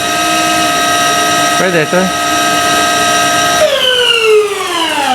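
Super Soco electric motorcycle motor accelerating: a steady whine of stacked tones that sweeps downward near the end, with a brief voice in the middle.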